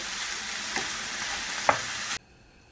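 Steady, loud sizzling of onion and garlic frying in a pan, with a couple of scraping stirs, then the sizzle cuts off abruptly near the end.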